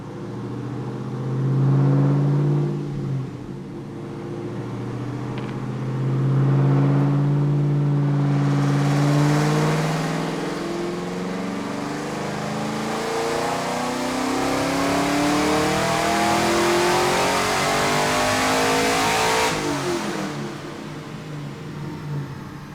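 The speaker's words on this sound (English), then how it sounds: "I revved it a little higher there" A supercharged Corvette C6 Z06 with a roughly 8-pound blower revs up repeatedly, the engine climbing loudly through rising pitches, settling, then rising again in long sustained pulls with a whining supercharger.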